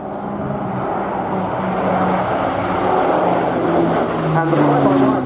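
An Airbus A400M Atlas turboprop transport roars through a flying display at an air show, its loud steady engine drone shifting in pitch as it climbs, with an announcer speaking over it.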